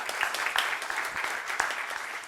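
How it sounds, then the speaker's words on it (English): Brief, steady audience clapping at a Rotary club president's installation in Mumbai, a moderately loud wash of many hands with scattered sharper claps. "Please give yourself a big round of applause."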